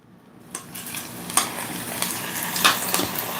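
Food frying in a pan with a steady sizzle and hiss, broken by a few sharp clinks of utensils and stirring against the pan, close and moderately loud.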